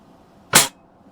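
A Daisy 120 pellet rifle fires once at a target, a single sharp close crack that decays quickly in an otherwise quiet outdoor setting.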